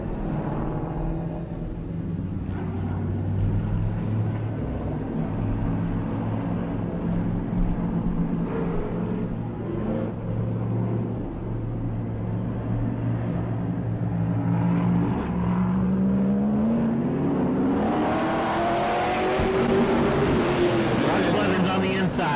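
Race cars circle a short speedway under caution at a season-opening event. The pack's engines make a steady, droning rumble that rises near the end as cars come closer, and a commentator talks over it throughout.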